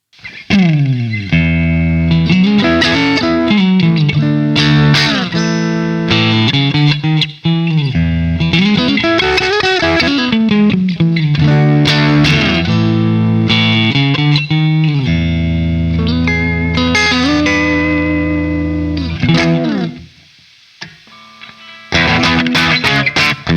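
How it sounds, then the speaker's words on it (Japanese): Electric guitar with crunch distortion from the built-in effects of an Enya INSPIRE smart guitar app, played alone as loud, sustained chords and riffs with a brief drop near the end. "今クランチで弾いてみましたけども、歪みの立ち上がりもしっかりしてますし"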